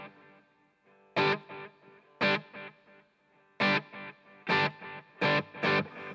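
Electric guitar through a Headrush pedalboard with the volume pedal placed after reverb and delay: bright strummed chords in short, loud bursts with brief gaps, each leaving a faint reverb and delay tail between hits, with no voices.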